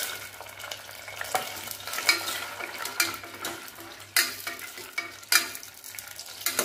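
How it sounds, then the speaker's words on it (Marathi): Dry coconut, cashews and almonds fry in ghee for a traditional lapsi, with a soft, steady sizzle broken by repeated scraping and clinking as a utensil stirs the pan up close. "आता हे सगळं आपल्याला थोडंसं तळून घ्यायचंय."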